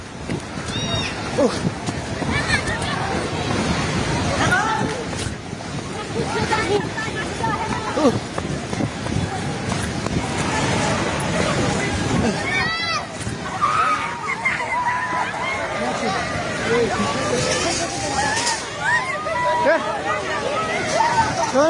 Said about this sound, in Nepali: हे भगवान पानी ठाका ढुङ्गेको पेट्रोल पम्प लिएर आइसक्यो